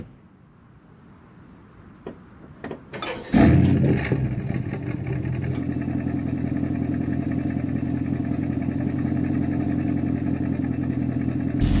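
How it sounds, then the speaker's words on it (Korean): An Aston Martin DBX in GT mode starts up with a few clicks and a sudden engine catch, then settles into a loud, steady, droning exhaust idle heard up close. "GT 모드에서의 배기음입니다."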